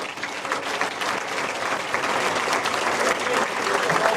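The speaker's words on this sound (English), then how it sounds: "maintain that fine applause for our under-21s who lifted the Central League Cup" Sustained applause from an academy awards audience at Mansfield Town, honouring the under-21s' Central League Cup win; dense steady clapping throughout, fairly close and even, with no voices standing out.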